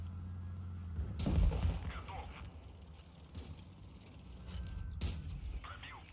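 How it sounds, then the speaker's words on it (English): Mortar fire from a tank in an online tank battle game: two heavy booming launches, one early and one near the end, each followed by a fading rumble over a low engine drone. "So I'm trying to pound this mortar here to open up this side here"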